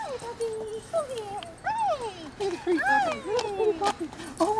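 A 5-month-old Shih-Poo puppy whimpers and yips in high, rising and falling cries, several in a row, close by, while a person talks softly in the background.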